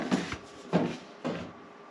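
Three hollow clattering knocks, spaced about half a second apart, come from the casing of an electric RV fireplace being pulled open and lifted off once its screws are out. The sounds are close and moderately loud.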